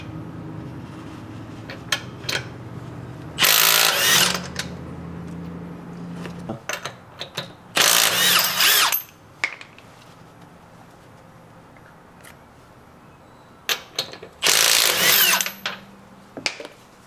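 On a 2021 Honda Ridgeline, a power tool spins lug nuts counterclockwise off a wheel: three loud bursts of a couple of seconds each, separated by quieter clinks and shop noise, with no voices.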